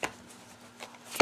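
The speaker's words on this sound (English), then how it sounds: "the cards shuffle like a dream" Tarot cards, a Morgan Greer deck with slippery, flexible cardstock, being shuffled in a few soft riffling bursts that end in a sharper snap, close and quiet with no talking.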